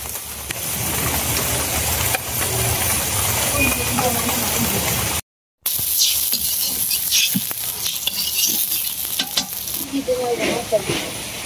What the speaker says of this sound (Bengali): বৃষ্টির নামছে ঠিক মতোই